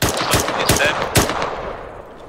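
Rapid automatic gunfire in the Arma 3 military simulation game during a night infantry operation: three sharp, loud bursts of shots in quick succession, the last fading into a lingering rumble.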